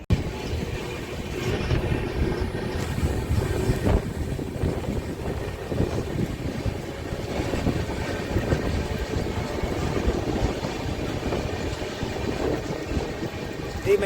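A Visakhapatnam–Mahabubnagar superfast express pulling out of Nidadavolu on the main line gives a continuous rumbling roar, heard from aboard the train, with wind buffeting the microphone throughout.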